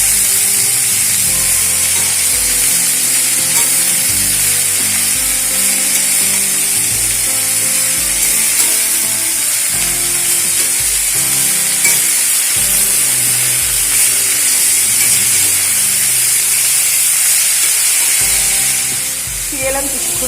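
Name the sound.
beto greens sautéing in a pan with turmeric and salt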